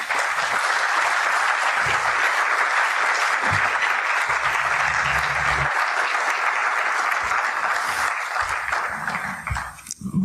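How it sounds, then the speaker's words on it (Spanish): A large audience at an international Cervantes colloquium applauds steadily for about ten seconds, dense and sustained, tapering off at the very end. "Un cálido aplauso, por favor."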